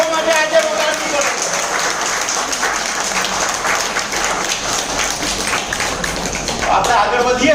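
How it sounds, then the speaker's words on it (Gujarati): An audience at a meeting in a hotel claps loudly and continuously, a dense roar of many hands that carries on steadily, with some voices mixed in. "એટલે તાળી એ લોકો માટે આજે વગાડવી પડે."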